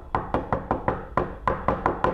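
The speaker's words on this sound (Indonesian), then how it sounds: "Ini ketokan gitu-gitu." Rapid knocking, about nine sharp, evenly spaced knocks in a quick steady rhythm, close and fairly loud with no voices.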